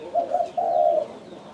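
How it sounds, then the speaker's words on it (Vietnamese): A Phu Yen turtle dove coos close by in two quick, rounded notes, the second longer, with no other sound around it. "con chim này cái tốc độ gù rất là nhanh"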